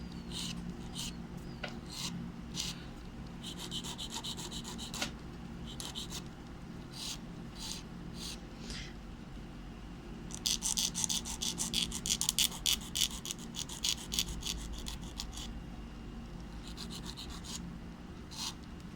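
A nail file rasps against the edges of an acrylic nail tip in quick, close back-and-forth strokes, coming in bursts with short pauses and growing busier midway.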